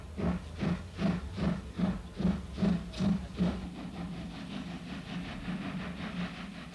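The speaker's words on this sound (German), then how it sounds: "So konnten die Eisenbahnfreunde am besten den typischen Klang einer Zweizylindermaschine" A two-cylinder steam locomotive climbing a steep ramp at a 1989 parade in Riesa, East Germany, with loud, evenly spaced exhaust chuffs close by that soften into a steady hiss and rumble as it passes.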